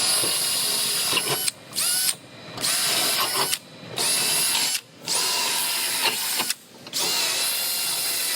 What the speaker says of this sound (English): I'm gonna go ahead and drill all my holes where the blind rivets go.